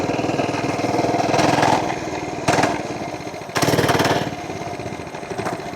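A FRP GMB100 mini bike engine revs hard at full throttle, a loud close buzzing drone that surges in repeated pulls with brief dips between them, heard alone.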